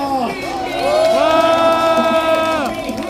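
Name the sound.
crowd applauding and cheering for candidate Lee Jae-myung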